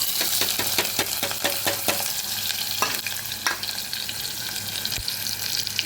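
Onion and a green chili hit well-heated oil with a loud, crackling sizzle, dense rapid pops at first that settle into a steadier hiss, plus an occasional utensil tap.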